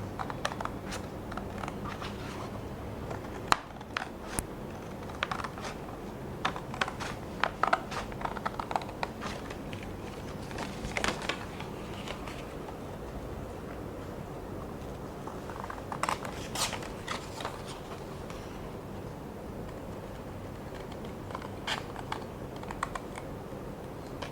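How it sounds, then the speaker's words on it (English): Scissors snip through paper to cut out the body of a simple homemade periscope along printed lines, giving scattered sharp crunches and clicks in uneven bursts, close and fairly quiet, with no voices. "So I've cut out the body of the periscope."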